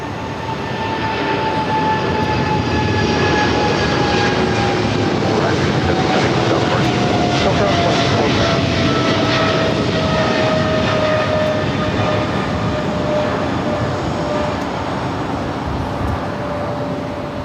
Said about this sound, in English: Also have a 777 freighter taking off